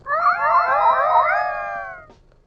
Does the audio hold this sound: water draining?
no